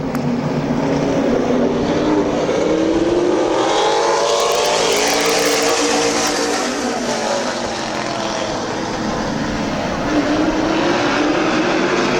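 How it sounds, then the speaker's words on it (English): Late model stock cars charge off turn four in an eight-lap heat race at a speedway, a loud steady engine roar swelling and shifting pitch as the pack sweeps past, with faint commentary underneath. "8-lap fast heat race for the late models off of turn number 4"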